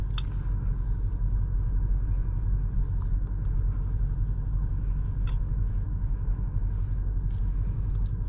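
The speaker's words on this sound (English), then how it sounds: "So that hill descent control is activating the ABS system." A BMW X5 M60i creeping down a dirt hill under hill descent control, the ABS working on its own, heard as a continuous low rumble with faint intermittent clicks, steady and fairly loud with no talking.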